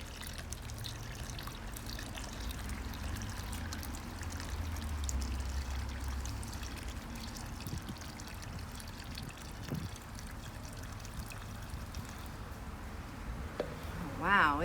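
Water poured into the dry soil of a WallyGro planter while potting a Calathea, a steady low trickling and pouring wash that runs continuously, close and moderately quiet.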